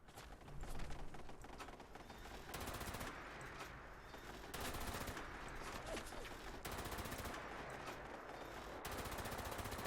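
Bursts of gunfire in Fallout 76, with rapid automatic volleys repeating every couple of seconds, quite close and steady under a constant layer of game noise.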